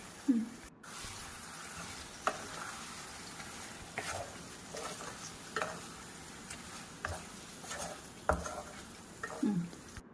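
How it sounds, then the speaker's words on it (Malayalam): Lemon pieces stirred in a hot pan with vinegar, a soft steady sizzle under intermittent scrapes and taps of a utensil against the pan, faint and close, with no talking. "അതൊന്ന് ചൂടായി വരുമ്പോൾ നാരങ്ങ ഇട്ട് മിക്സ് ചെയ്ത്"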